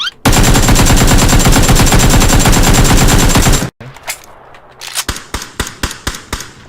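Automatic rifle fire in the video game PUBG, with an M4 mentioned, rips out as a loud rapid burst of densely packed shots for several seconds, then after a brief gap a slower string of separate single shots follows.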